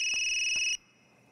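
A synthetic electronic mobile phone ringtone in the video game Yomawari: Night Alone trills steadily, then cuts off abruptly, leaving quiet background.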